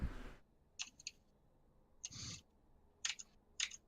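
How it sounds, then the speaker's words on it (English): Scattered keyboard clacking in short clustered bursts, quiet and close, separated by near-silent gaps. "What are you clacking at?"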